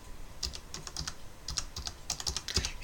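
Quick, light keystrokes on a computer keyboard as a surname is typed, a steady run of crisp close clicks in a quiet room.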